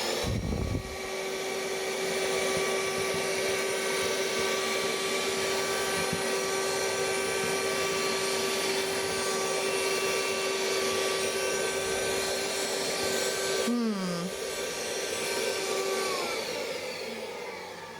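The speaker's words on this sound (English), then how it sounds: "So we're going to hoover the water up now." A Goodmans cordless wet and dry handheld vacuum runs continuously while sucking up water, giving a steady close motor whine with a gurgling pitch dip near the end before it keeps running.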